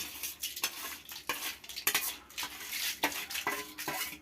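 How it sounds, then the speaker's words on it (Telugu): Repeated scraping and clinking of a utensil stirring chillies, mustard seeds, cumin, fenugreek and asafoetida frying in oil, with a light sizzle underneath; irregular strokes, close by, no talking. "పోపు మిరపకాయలు ఆవాలు జీలకర్ర మెంతులు ఇంగువ ఇవి పెట్టుకోండి"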